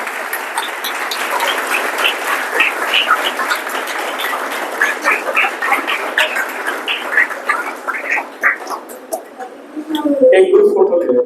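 A classroom audience of ninth-grade students applauds loudly at the close of a school session, with sustained dense clapping for about nine seconds that then thins out as voices and murmuring take over.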